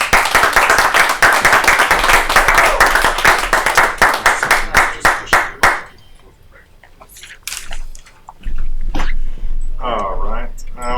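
A comedy club audience at a live show claps for a comedian walking up, with loud, dense applause that thins into a few last claps and stops about halfway through, followed by talking and a brief laugh.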